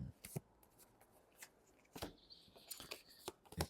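Tarot cards are shuffled and drawn close by: a quick run of crisp riffling snaps and light slaps comes in separate bursts, with short pauses between them.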